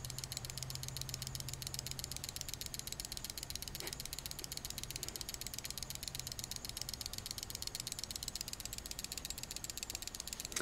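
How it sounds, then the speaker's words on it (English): A Swiss-made Memot mechanical kitchen timer bell rattles continuously in a fast, steady ratcheting buzz, loud and close, running throughout without pause. "It makes quite a racket as it uh, goes off."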